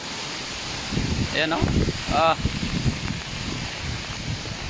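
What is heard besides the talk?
strong wind on hilltop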